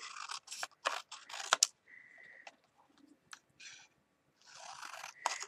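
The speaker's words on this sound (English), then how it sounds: "So I can just cut along the line" Scissors snip through a paper card panel along a straight line in a few short, crisp bursts with brief quiet gaps between them, close and soft, with no talking.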